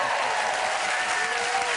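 A studio audience on a talk show breaks into a burst of dense, loud applause that holds steady for a couple of seconds.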